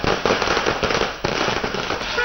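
Firecrackers burst during Diwali night in Delhi, a dense run of sharp cracks and popping blasts going off repeatedly, loud and close.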